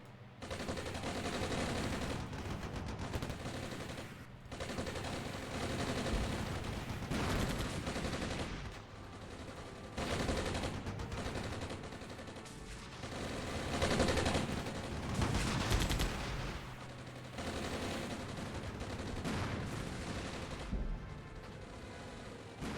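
Sustained battlefield gunfire in the Armored Brigade war strategy game, dense overlapping rifle and machine-gun bursts rattling almost continuously, with brief lulls between heavy volleys and no talk.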